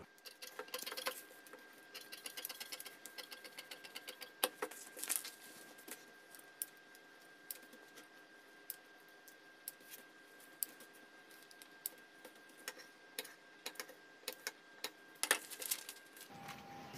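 Scissors cutting a paper blouse pattern: faint, close snips and rustles of paper in short irregular bursts, with quiet pauses and no talk.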